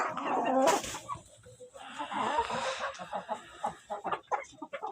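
Hens in a small village chicken coop keep up a busy run of clucks and squawks nearby, with a sharp burst early on and scattered pecking noises, and no one talking.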